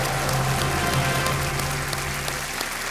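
Studio audience applause on a televised quiz show set, steady and loud throughout, a dense unbroken wash of clapping filling the room.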